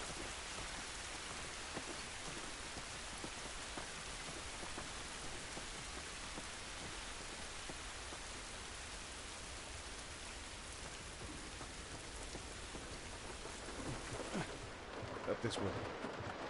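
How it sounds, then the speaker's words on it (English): Steady rain in the video game The Last of Us pours down as a dense, even hiss that holds unbroken throughout, with a few louder splashes near the end. "It's raining."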